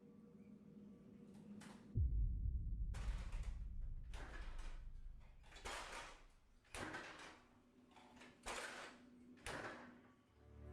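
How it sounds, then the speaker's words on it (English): A fridge door in a home swings and bangs shut with a heavy thud, then keeps knocking and rattling in a series of irregular bumps before going quiet, recorded by a household camera. "it's the fridge door that begins moving on its own. It bangs open and closed, then suddenly stops."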